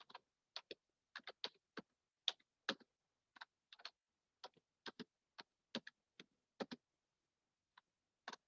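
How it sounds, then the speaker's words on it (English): Sparse, quiet keystrokes on a computer keyboard, about two dozen light taps in irregular bursts with gaps between them, close and isolated against silence. "So here I am going to type the expression y is equal to"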